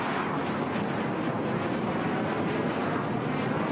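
A HAL Tejas fighter jet makes a low, slow pass in front of the stand at about 500 feet at the Bahrain air show, its steady broad jet roar loud and continuous throughout.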